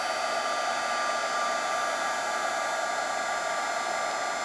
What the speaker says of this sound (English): now I'm going to emboss these with this heat tool